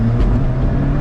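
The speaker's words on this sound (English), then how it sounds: "You get that beautiful noise that comes out of the race exhaust, because this has a race exhaust as standard" An Alfa Romeo 4C's 1.75 litre engine, mounted just behind the cabin, drones through its race exhaust. It makes a deep, loud, steady rumble heard from close by for a brief moment.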